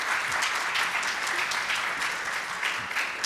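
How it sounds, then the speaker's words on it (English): Sustained, dense audience applause for a panel at a policy forum on critical issues, steady and fairly loud throughout with no talk over it. "Let's give a big round of applause to our panel."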